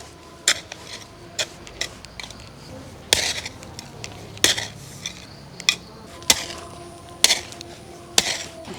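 A hand hoe draws soil up around cabbage and cauliflower plants, each stroke a sharp scraping chop, repeating roughly once a second with uneven spacing over a quiet background.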